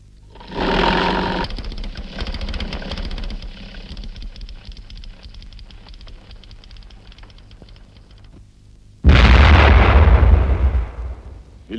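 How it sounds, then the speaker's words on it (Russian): A gunshot in a 1949 period film scene, with a loud burst early on, a long stretch of rattling mechanical noise and then a second sudden loud blast near the end. "А все-таки как же насчет выстрела-то?"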